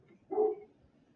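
A single short dog bark, fairly faint and alone, in a quiet outdoor setting at Skinwalker Ranch.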